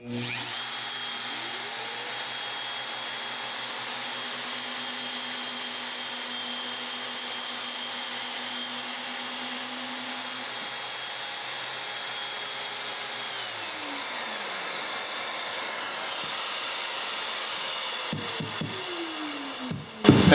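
A Mafell Duo dowel machine runs steadily with a Festool dust extractor, a loud continuous whine with sustained tones that winds down near the end, followed by a few brief knocks.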